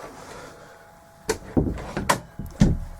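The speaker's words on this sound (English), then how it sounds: "Close the door over so no one has to hear me podcast." A door in a quiet room is pushed shut, giving a series of close thumps and knocks as it swings and latches, followed by a couple of softer knocks.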